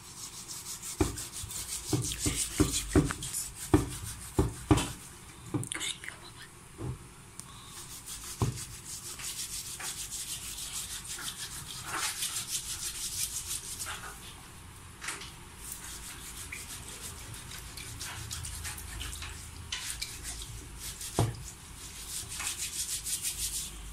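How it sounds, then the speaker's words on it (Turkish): Pig or lamb trotters, soaked in vinegar water, are scrubbed with a steel wire scourer, giving close rasping, scraping strokes that come in bursts, denser and sharper early on, over a faint steady background hum; no speech. "sirkeli suda beklettiğimiz ayakları telle sürterek yıkıyoruz"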